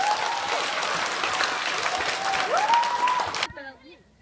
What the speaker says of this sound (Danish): Og så må det klappes.